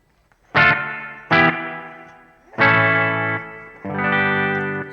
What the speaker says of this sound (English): So let's have a listen to a plate reverb.